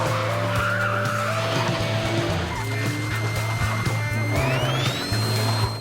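A film car chase with tires skidding and squealing over a roaring engine, loud and continuous throughout, with rising whines near the end and no voices.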